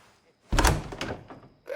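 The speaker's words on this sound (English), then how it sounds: "Open this door or I'll kick it in!" A door being kicked in during a scene from the video game Assassin's Creed Odyssey: a single heavy thud and crack with a short rattling tail, close and loud.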